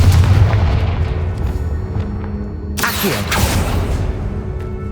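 A fiery explosive spell blasts in a Hogwarts Legacy battle against attacking goblins, with heavy booming thuds and a sharp burst crackling midway, loud and close amid rumbling game ambience.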